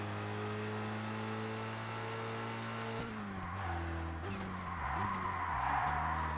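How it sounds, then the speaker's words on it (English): A racing car in ToCA Race Driver 2 drones at a steady engine pitch, then downshifts, and the turbo wastegate chatters through a series of rapid pitch drops and revs, close and continuous with no voices. "odd to hear the turbo wastegate chattering away there on downshift"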